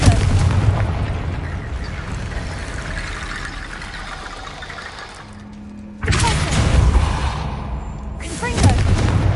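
Confringo blasting spells in the Hogwarts Legacy video game set off loud, dense explosive bursts and rumbling booms, nearly continuous with a brief lull before a fresh powerful blast.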